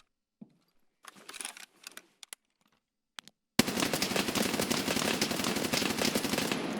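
Mk47 Mutant rifle fire in a video game, with a few scattered clicks and handling sounds and then a loud, sustained rapid automatic burst that runs to the end.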